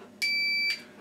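Voltage tester beeping during a safety check while a wireless room thermostat is fitted: one clear, loud electronic beep lasting about half a second, alone against a quiet background.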